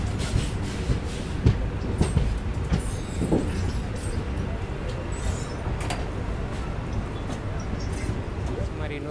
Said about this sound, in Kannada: ಸೊ ಇದು ಬಂದು KSR ಬೆಂಗಳೂರು ಬೆಳಗಾವಿ ವಂದೇ ಭಾರತ್ ಎಕ್ಸ್ಪ್ರೆಸ್.